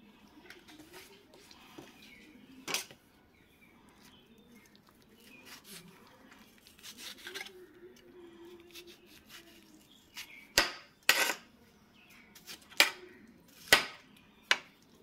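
A knife chops watermelon into small pieces on a board, first soft and irregular, then a run of sharp, distinct chops toward the end, heard close with quiet background sound and no talk.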